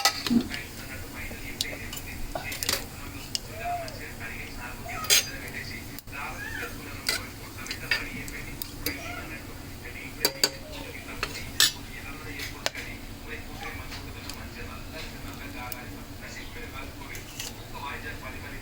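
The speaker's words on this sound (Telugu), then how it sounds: "మసాలా దినుసులు అయితే వేసుకుంటున్నాను పోపులో" Whole spices sizzle in hot oil for tempering while a metal spoon stirs and clinks against the pan in sharp, irregular taps over a constant frying hiss, for a goat head curry.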